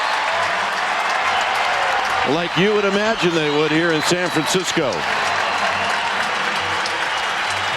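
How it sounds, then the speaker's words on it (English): A San Francisco baseball crowd applauds and cheers Barry Bonds' home run, a broad continuous roar of clapping in the background under a play-by-play announcer talking throughout. "Now the crowd is going to greet Bonds"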